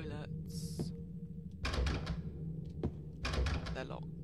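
A locked toilet door in Silent Hill 2 rattles and thunks in short bursts of heavy clattering, close and loud, separated by quieter pauses with a voice talking.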